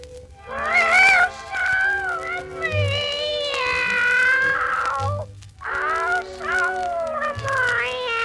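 A cartoon cat sings the old song O Sole Mio entirely in drawn-out, wavering meows, a voice imitating a cat, with a soft musical backing beneath the loud, sustained melodic phrases.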